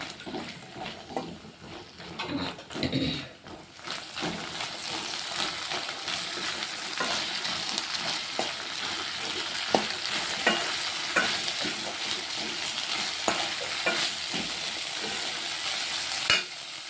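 Boiled chickpeas with coriander are stirred in a frying pan, with a continuous hissing sizzle and repeated scraping strokes that carry on throughout.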